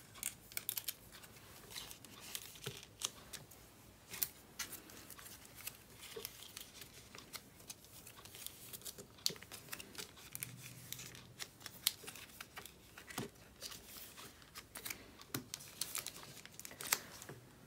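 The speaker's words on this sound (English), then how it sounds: "So I'm just gonna put them in the same nine pocket page." Seventeen photocards slide into a plastic nine-pocket binder page, giving soft crinkles, light taps and small clicks. The sounds are faint and close, spread unevenly with no voice.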